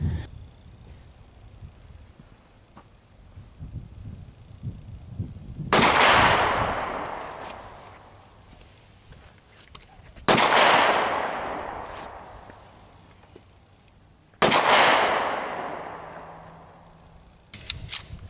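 Three loud, sharp reports from a restored Remington gun fired outdoors, spaced a few seconds apart, each trailing off in a long echoing decay, with a fourth shot starting at the end.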